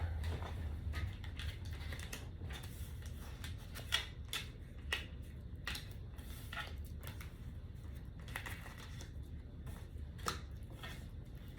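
Tarot cards being shuffled by hand, soft, quick riffling flutters and papery taps in uneven bursts, close and fairly quiet.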